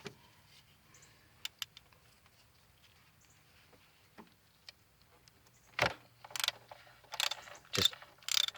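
A ratchet loosening bolts on the engine of a 2008 Nissan Versa during a coil pack and spark plug change, mostly faint clicks at first, then several louder bursts of ratcheting toward the end.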